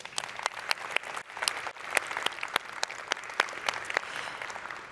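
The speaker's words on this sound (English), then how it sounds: "please give yourselves and everyone who participated a hearty round of applause" A conference audience at the GEOINT 2023 symposium closing session gives a moderate, sustained round of applause, with individual claps standing out sharply from the steady wash of hands, heard from some distance.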